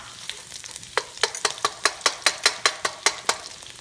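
Green onions go into a hot wok for vegetable fried rice, starting with a soft sizzle before a quick run of about fifteen rhythmic scraping strokes as they are tossed, close and fairly loud, with no voices.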